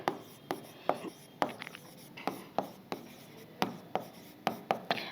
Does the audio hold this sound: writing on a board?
yes